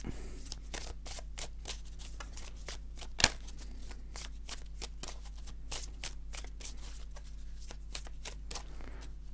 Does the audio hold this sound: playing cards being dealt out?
yes